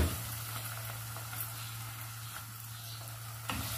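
Steady sizzling of garlic and ginger frying in a hot pan, a continuous crackling hiss with a low hum underneath and no talking.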